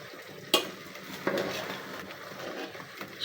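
Mung dal khichuri being stirred in a cooking pot, with a sharp clink of a spoon against the pot, a scraping stir and a soft steady sizzle underneath, close and moderately quiet with no talk.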